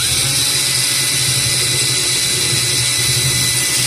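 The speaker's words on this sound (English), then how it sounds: "I need to do a re-drill." A power drill runs continuously while re-drilling holes for the brackets on a fish tank's center brace, a loud, steady motor whine with a low hum beneath it and no talk.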